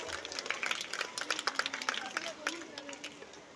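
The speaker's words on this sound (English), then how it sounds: "A big round of applause once again for the PU" Applause at a school annual day programme, a burst of scattered hand claps from a crowd, fairly faint and distant, with a murmur of voices and a faint speaking voice mixed in.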